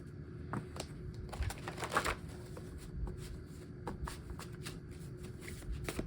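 Playing cards riffle and flutter in quick, soft bursts, close by and fairly quiet, with a couple of sharper snaps.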